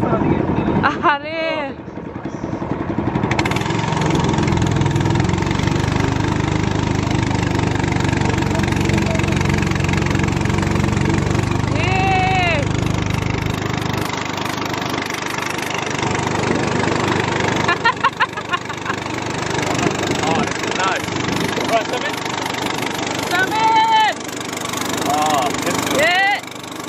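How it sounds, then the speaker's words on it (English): A loud boat motor on the Sangu River drones steadily and close for most of the stretch, and a voice speaks over it now and then. "Please brace yourselves for the loud noise that the motor from the boat makes."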